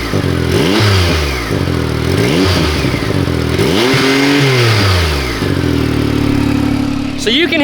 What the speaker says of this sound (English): The exhaust, give it a little rev